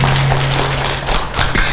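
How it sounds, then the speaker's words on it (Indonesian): Audience clapping at an indoor women's empowerment event, dense broadband applause from a nearby crowd with a steady low hum running underneath. "Mari berikan tepuk tangan yang gemuruh untuk kita semua."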